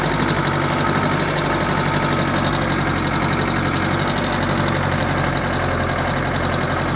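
Unimog 411 engine droning steadily in third gear while driving through snow, a continuous loud mid-pitched rumble with a knocking, vibrating texture and no talk.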